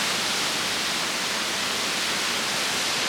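Waterfall at Achensee lake in Tyrol, Austria: a steady, dense rush of falling water filling the whole clip at moderate level, with no voices over it.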